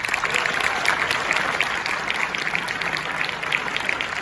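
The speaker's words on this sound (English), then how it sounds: "Once again, another round of applause for our panel." Applause from a high school assembly audience for a panel, a dense patter of many hands clapping steadily throughout, moderately loud with a voice faintly mixed in.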